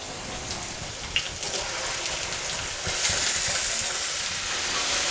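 Onions fry in a pan for egg bhurji with a close, continuous sizzle broken by scraping stirs and a few sharp crackles, with no speech.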